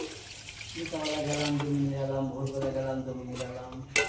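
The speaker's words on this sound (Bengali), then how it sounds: "আলুর সাথে আমি জলটা দিয়ে দেব জল দিয়ে নিচ্ছি" Water pours into a pan of spice-fried potatoes for a fish curry, a resonant, rising pouring tone lasting a few seconds before a final splash-like knock.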